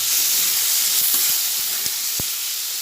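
Thinly sliced potatoes fry in oil in a pan with a steady, loud hiss and sizzle throughout, broken by a few light taps and crackles near the middle and end.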